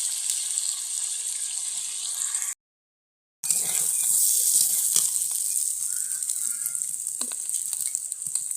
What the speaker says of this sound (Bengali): মাংসটা এবার জল দিয়ে দিচ্ছি।